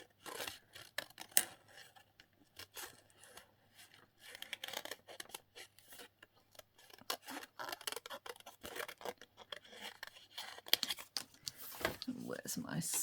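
Small scissors snipping slowly around a paper cutout, giving a run of close, irregular crisp snips and rasps with brief pauses, all at a low level.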